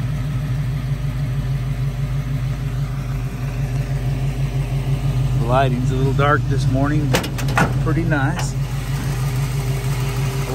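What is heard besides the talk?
1969 Camaro with Corvette LT1 V8 engine running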